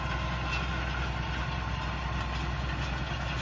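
A Claas Axion tractor idles in a farm field beside rollers, its engine giving a steady, even low drone with a faint high whine, continuous and unbroken throughout.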